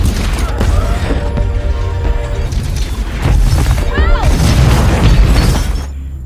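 A loud, sustained explosion and crash during an attack on a facility in a film, with a dense roar and scattered debris-like smashing under a continuous rumble that swells midway and eases near the end.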